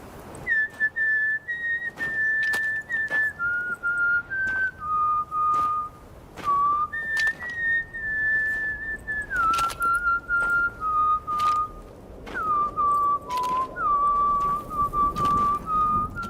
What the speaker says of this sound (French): il s'en va en sifflotant son propre thème.